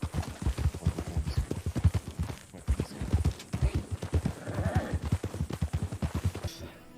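A horse's hooves clip-clop in a video game, a steady near rhythmic patter of hoof strikes that pauses briefly midway, then resumes at an even pace.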